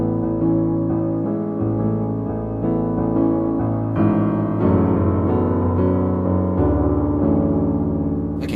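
A piano plays the verse of a song, sustained chords and melody flowing steadily and close, with no one speaking.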